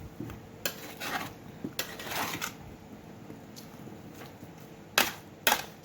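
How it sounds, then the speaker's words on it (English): String beans and sweet pepper being stirred with a spoon in a pot, giving soft scraping and clinking taps at irregular intervals, with a few louder knocks near the end; no speech. "And we're going to stir in everything."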